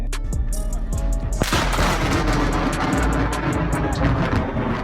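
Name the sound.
positive lightning strike causing a small explosion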